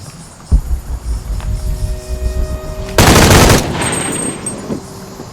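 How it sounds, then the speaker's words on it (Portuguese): Gunfire in the video game Shadow of the Tomb Raider: a sharp single shot, then a loud dense burst of rapid fire lasting about half a second, over a low game hum and tonal music. "Oh, não queria atirar."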